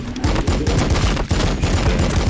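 Rapid automatic gunfire in the Warhammer 40k Battle Sector strategy game, a fast regular stream of punchy thudding shots with a brief break midway, loud and close.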